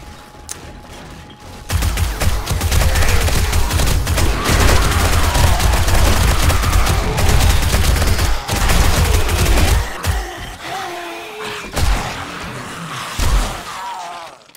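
Sustained automatic gunfire sprayed nonstop in the survival video game 7 Days To Die, loud and dense for about eight seconds before thinning into scattered shots and thuds.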